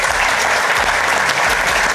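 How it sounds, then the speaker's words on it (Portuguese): Loud, dense applause from a crowd at a jiu-jitsu club celebrating a new brown belt, steady clapping from many hands close by, no speech over it. "uma grande salva de palmas para este gajo"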